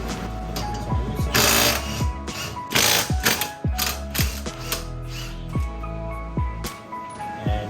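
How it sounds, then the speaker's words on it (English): A ratchet backs out spindle bolts on a car during wheel-fitment work, with close, rhythmic bursts of sharp clicking pawl strokes that repeat through the stretch, interrupted by a few louder metallic clanks. "that is how you remove your spindle bolts"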